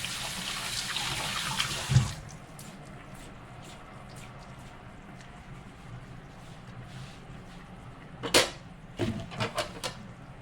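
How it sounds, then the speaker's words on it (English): A kitchen tap runs briefly for hand washing, a short gush of water followed by scattered drips and small splashes in a quiet room. "Wash my hands a little bit."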